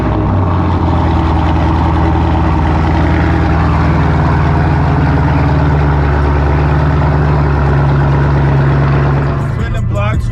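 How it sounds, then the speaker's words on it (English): A Chevrolet Camaro ZL1 engine runs through a cold start, a loud, steady low rumble with a constant idle drone that holds for about nine seconds before cutting off near the end. "cold start."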